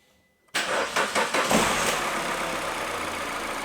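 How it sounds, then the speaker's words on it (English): A Peugeot 207cc engine cranks with a few quick sputtering turns, then catches and settles into a steady, close idle. "I'll just start the engine up."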